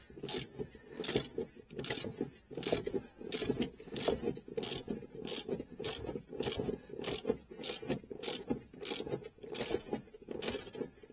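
A torque wrench ratchets in steady, repeated strokes while tightening a rear shock bolt on a 2001-2007 Ford Escape. The close, rhythmic metallic clicking and scraping comes in regular bursts about every half second.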